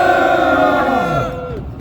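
A crowd at a civic groups' press conference lets out a loud, unified shout of several voices, swelling briefly and then falling away into quiet at the close.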